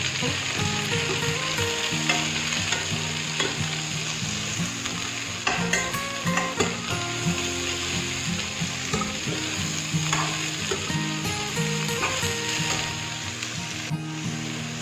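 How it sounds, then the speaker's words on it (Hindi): Chopped cabbage and potatoes fry in a pan, a continuous loud sizzle broken by frequent scraping and stirring clatter, with no talking. "अब मैं इसमें कटे हुए कैबेज यानी पत्ता गोभी ऐड कर दूंगी और इसको भी मैं फ्राई करूंगी।"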